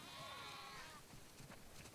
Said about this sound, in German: Wir haben viel zu viele Schafe.